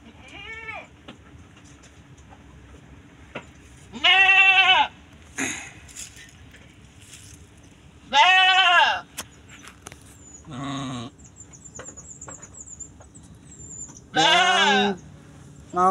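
A young female goat bleats in a livestock pen, four loud drawn-out calls spaced a few seconds apart, close to the listener, with quieter rustling and faint noises between them.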